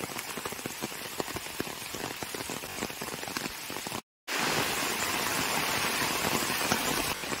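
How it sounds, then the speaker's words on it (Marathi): Heavy monsoon rain in the Konkan countryside drums steadily and loudly on surfaces, a dense unbroken roar that cuts out for a moment and then returns just as strong, with no talking. "तर पावसाने जोरदार हजेरी लावले पाहू शकता या ठिकाणी."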